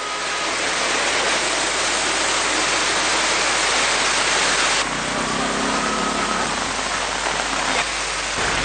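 Heavy, continuous rain in Ampara, Sri Lanka, pours as a steady, dense roar with no letup throughout, loud and close, with no voices.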